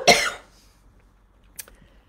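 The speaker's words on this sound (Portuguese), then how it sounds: "Vou pedir desculpa, mas vou ter que tossir." A single close cough from a person with a cold bursts out at the start, followed by quiet and a small throat-clearing sound shortly after.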